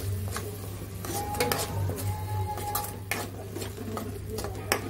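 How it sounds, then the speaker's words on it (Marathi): Spiced masala of turmeric, red chilli and coriander powder stirred in a pan for a whole masoor curry, with a spoon scraping and clinking against the metal over a low sizzle, no talking. "सगळं परत एकदा व्यवस्थित परतून घ्यायचं आहे"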